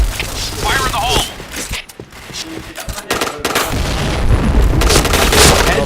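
A grenade blast in the PointBlank shooter game lands among rapid gunfire and booms, with chaotic in-game effects and voices throughout.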